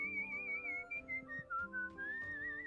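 A person whistles a wavering, soothing melody close by, one continuous tune with gentle pitch glides and brief breaths between phrases, playing over a low murmur of background sound.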